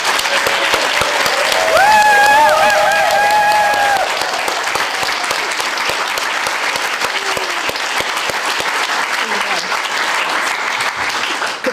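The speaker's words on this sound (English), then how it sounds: "So another round of applause for Arthapriya." A large audience gives a sustained round of applause at a chair handover ceremony. The clapping is dense and steady for about twelve seconds, with a brief tonal sound near the start.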